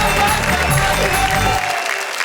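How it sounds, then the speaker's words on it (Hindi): An audience at a Hindi poetry and comedy stage show claps for a poet being called up, a dense burst of applause that fades out after about a second and a half. "जरा तालियां बजाएं।"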